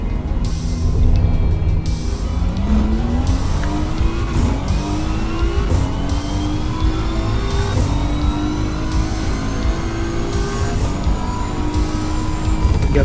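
A race car engine screams at full throttle in the racing game Assetto Corsa EVO, loud and close, its pitch climbing and dropping through repeated gear changes with a brief tire squeal among the revs.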